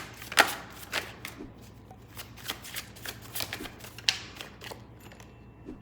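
Tarot cards are shuffled by hand in crisp rapid riffles and flicks, with sharp snaps as cards are drawn, close and clear over a low steady hum.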